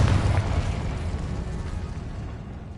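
Confringo blasting spell bursting in Hogwarts Legacy, a deep rumbling explosion strongest at the start and then fading into a long low roar, with no voices.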